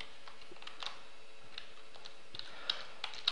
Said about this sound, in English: We type the email